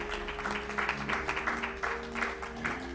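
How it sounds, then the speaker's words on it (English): A Baptist church congregation claps during a morning service, with rhythmic hand claps over a sustained organ or keyboard tone and low background voices. "Come on, clap your hands this morning."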